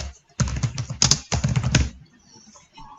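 Rapid typing on a computer keyboard, close and crisp, in two quick bursts of keystrokes separated by a brief pause, then quiet.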